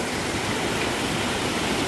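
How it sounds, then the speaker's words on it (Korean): Chima waterfall cascading in steps into a pool along the Jungwon valley stream, a steady, loud, broadband rush of falling water that fills the whole clip with no voices. "폭포가 저렇게 내려옵니다."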